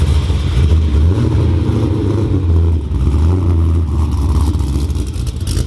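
A single-cam Ford Mustang engine roars and revs loudly and continuously close by, with a rough low rumble that surges and dips without letting up.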